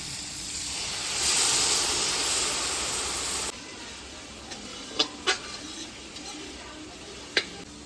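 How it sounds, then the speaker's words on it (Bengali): Water poured onto spices frying in hot oil, Kashmiri chili powder among them, bursts into a loud broad sizzling hiss that swells and then cuts off, followed by a few faint clicks and taps. "মশলাগুলো তেলে পুড়ে যাবে মশলা কষানোর জন্য জল দিয়ে দিচ্ছি"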